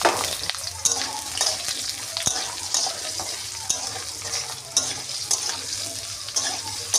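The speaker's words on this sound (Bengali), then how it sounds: "ভাজা ভাজা হলে তারপরে সব মশলা দিয়ে কষাবো।" Potatoes frying in oil with cumin seeds, a continuous close sizzle with scattered clicks and scrapes from stirring throughout.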